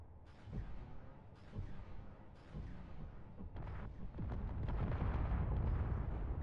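Cannons firing in the Space Engineers video game: a series of heavy booms and blasts, a few spaced hits early on, then a dense, continuous barrage of loud explosions rumbling together toward the end.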